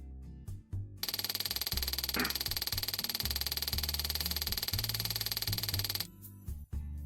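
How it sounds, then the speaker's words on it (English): Phone message notification in a visual novel game: a steady electronic pulsing tone runs for about five seconds over soft game music, cutting off cleanly before the quieter music resumes. "My phone makes a sound"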